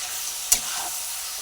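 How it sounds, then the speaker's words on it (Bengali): Chicken pieces cooked with spices in a pan over charcoal, sizzling steadily with a single brief stir or scrape partway through, close and fairly quiet. "মাংস সমস্ত মশলা দিয়ে এবারে কষানো হচ্ছে"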